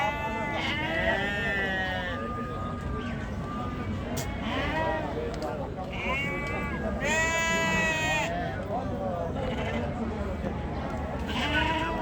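Sheep and goats bleat repeatedly at a sheep market in Ganja, with several overlapping calls standing out loud and close among a constant crowd murmur and people talking.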